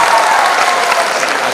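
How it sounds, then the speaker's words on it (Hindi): Audience applause fills a festival's closing award ceremony, a dense, steady wash of clapping from a large crowd that holds evenly loud throughout with no pauses. "तालियां बजनी चाहिए,"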